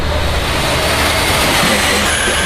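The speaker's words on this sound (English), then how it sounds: "That's it. 3 cars gone by." Racing cars sweep past on a race track, a steady loud broadband engine roar that holds across the whole stretch with no gaps and no voices.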